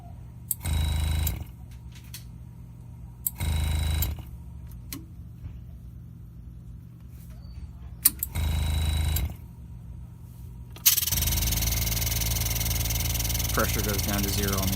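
A Graver Helper pneumatic engraving machine for jewelry work, its handpiece running in three short, loud buzzing bursts separated by quiet gaps, then switching on into a continuous, steady harsh drone that carries on to the end.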